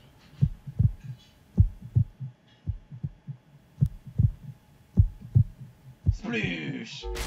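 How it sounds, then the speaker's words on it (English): Steady heartbeat during a pre-rendered cutscene in the video game Metroid: Other M, paired low thumps repeating evenly and prominently, with a burst of brighter noise near the end. "I'm glad we let it sit for a little bit so they can hear the heartbeat."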